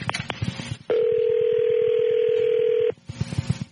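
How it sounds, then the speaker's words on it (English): A telephone being dialed: a loud steady tone holds for about two seconds, framed by short clicks and faint background noise. "start news while I'm dialing"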